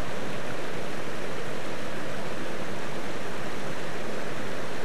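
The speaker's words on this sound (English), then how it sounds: "You can see the little river running off" A small river running in a valley, a steady broadband rush of flowing water that stays constant and fairly close, with no voices over it.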